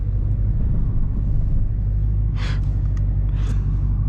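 A Dodge Charger R/T rolls through slushy, melting snow with a steady low rumble from the engine and tires, and two brief hissing splashes of slush near the end.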